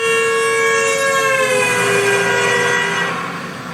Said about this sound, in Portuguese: o som dessa ambulância